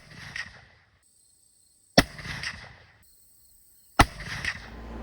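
A muzzleloader fires a Barnes 290-grain TEZ bullet over two 50-grain Pyrodex pellets, three sharp, loud, close reports about two seconds apart, each with a short rumbling decay and near-silence between.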